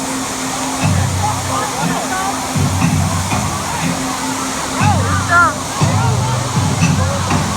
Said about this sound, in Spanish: Pero aquí tienen ahora las olas.